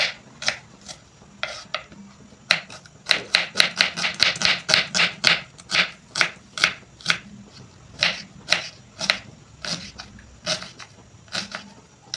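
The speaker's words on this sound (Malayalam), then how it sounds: "അതിലേക്കുള്ള ഉള്ളി ഈ രൂപത്തിലാണ് വെട്ടിയെടുക്കേണ്ടത്" Onion being chopped with a knife for a tapioca biryani: a long run of crisp, close knife strikes on a board, quickening into a rapid burst midway and then slowing to spaced cuts.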